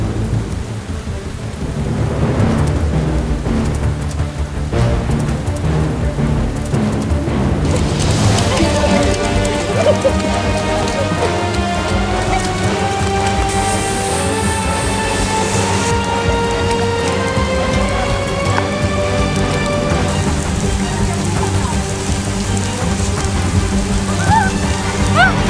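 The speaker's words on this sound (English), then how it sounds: "it's raining" Rain falls steadily outdoors in New York City, with a dense patter throughout and low rumbles; music comes in over the rain after the first several seconds and continues to the end.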